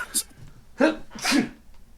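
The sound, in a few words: person sneezing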